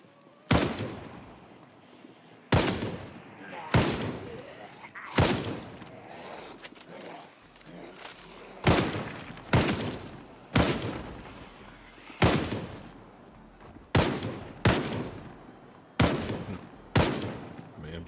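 Gunshots in the game Project Zomboid, about a dozen loud, sharp reports arriving at irregular intervals of one to two seconds, each with a decaying tail, over faint background.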